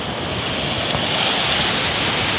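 Sea waves washing up onto a shore and drawing back, a continuous loud hiss of surf with some wind noise on the microphone, close and steady with no voices.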